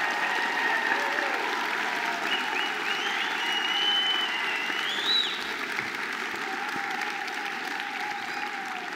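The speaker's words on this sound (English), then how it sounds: "give yourselves a huge round of applause" A crowd applauds steadily for the whole stretch, a dense and continuous roar of clapping with no break and no talking.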